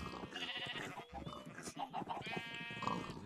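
Sheep bleating in Minecraft, several game-animal calls rising and falling over a busy backdrop of game sounds, fairly loud and continuous with no clear talk.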